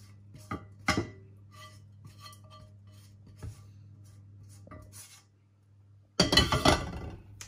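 A utensil clinks and scrapes against a bowl while cooled vegetables are mixed into an egg and plain-flour batter for egg muffins. A few sharp taps come early, then a louder, busier burst of stirring near the end, with no talking.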